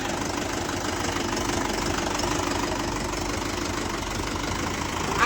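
A Mahindra Yuvo Tech 585 tractor labors up a slope, its engine a steady, loud, rough knocking drone that holds throughout without speech.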